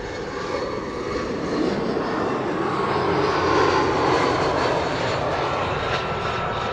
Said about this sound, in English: British Hopper Embraer 170 arriving from Humberside, flying on behalf of KLM, flight 972